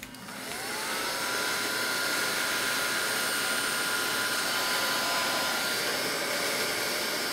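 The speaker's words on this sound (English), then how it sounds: "Get the heat gun." Heat gun blowing hot air to shrink heat-shrink tubing over wires while building model airplane wings, a steady loud rushing whir that ramps up at the start and holds evenly throughout, with no talking.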